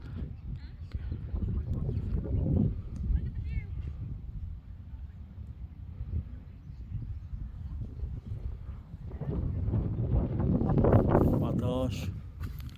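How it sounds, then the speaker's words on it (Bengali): Steady wind blows across the microphone at the seaside near Bray, Dublin, a broad low rumble that swells toward the end, with faint voices mixed in underneath. "বাতাস"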